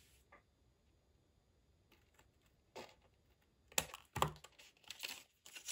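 Cardboard card being trimmed by hand, a few quiet crinkling cuts and scrapes building to two louder rasping bursts near the end, close and alone with no talking.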